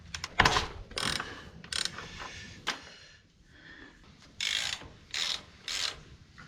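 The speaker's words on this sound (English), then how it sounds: "Got this fancy spanner socket that goes right in there." A spanner socket on a ratchet loosens a swing arm nut on a 2014 V-Strom 650. Close, rapid ratchet clicking comes in several bursts with short pauses between them, then several more short runs of clicks near the end.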